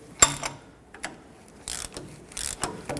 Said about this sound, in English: I'm going to use my 18mm wrench and an 8mm socket on the end of this stud.